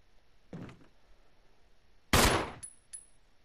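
Two pistol shots in Resident Evil Remastered, a softer one early and a loud sharp crack later with a short decaying tail, separated by quiet.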